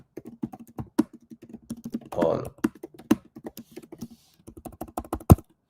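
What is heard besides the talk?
typing on a computer keyboard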